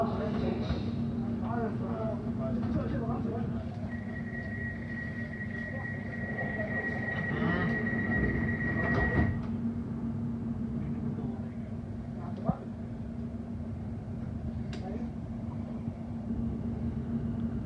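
Steady low rumble of a London Overground train running toward Watford Junction, with a sustained whine rising briefly partway through and indistinct voices or announcements over the continuous ride noise.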